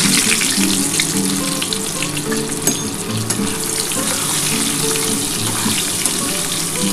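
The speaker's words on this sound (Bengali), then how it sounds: "আলুগুলো একটু লাল লাল করে ভাজা হয়ে গেলে তারপর আমি তুলে নেবো" Potato pieces fry in hot oil for a Bengali mutton kosha, giving a loud, continuous, even sizzle close to the pan with no talking.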